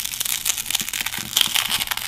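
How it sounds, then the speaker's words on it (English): Fractured back glass on an Oppo Find X phone is bent back, giving close, crisp crackling and crunching with scattered small snaps over a couple of seconds. "Bending back the fractured glass"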